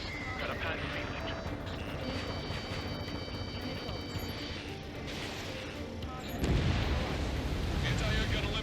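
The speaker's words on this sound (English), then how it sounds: "We're taking fire from our own allies." Allied gunfire and explosions in the jet combat game Ace Combat 7, a steady dense rumble of booms and impacts that swells louder near the end, with radio chatter running over it.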